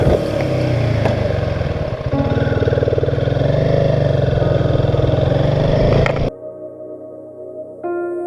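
A Royal Enfield motorcycle engine idles steadily while warming up, a close, loud, even mechanical thrum that cuts off abruptly near the end, leaving a quieter hum.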